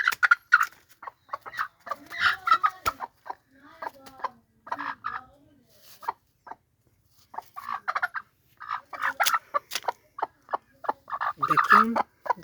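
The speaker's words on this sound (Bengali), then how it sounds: "একটা লাল মুরগি, খুবই সুন্দর, খুব সুন্দর মুরগি" A red hen clucks and calls close by in a series of short, uneven bursts with brief pauses between them, loud and clear against a quiet background.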